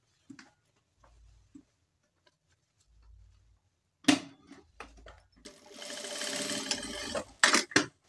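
Sewing machine stitching fabric for an off-shoulder dress. It starts with brief quiet whirs and then runs in a longer steady burst near the end, close and moderately loud.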